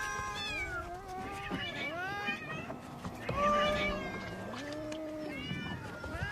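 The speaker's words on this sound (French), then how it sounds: "son bateau est pris d'assaut par les félins." Several cats meow over one another, loud and close, as they swarm a fishing boat returning to an island harbour; the cries rise and fall in repeated overlapping bursts.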